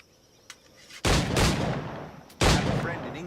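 Musket-style firearm gunfire from the pirate-era video game Assassin's Creed 4, with two loud, sharp blasts about a second and a half apart, each followed by a long booming decay, and a faint click just before the first.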